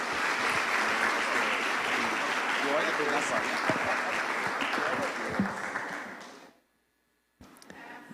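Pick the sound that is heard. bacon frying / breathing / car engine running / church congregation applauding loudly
church congregation applauding loudly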